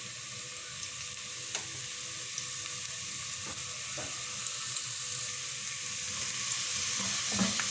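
Finely chopped large onion frying in hot oil in a pan, a continuous close sizzle with occasional soft scraping and stirring clicks, no voices.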